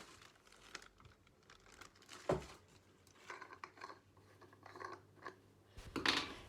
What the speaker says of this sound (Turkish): Açalım bu kutuyu